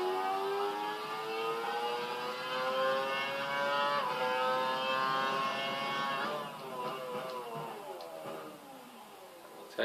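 F1 2012 racing game car on the Malaysia circuit, engine note climbing through the gears as it accelerates, a loud continuous whine with rising pitch sweeps and brief dips at each shift, with faint talk over it.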